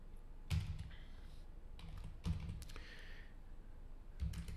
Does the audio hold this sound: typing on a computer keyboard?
yes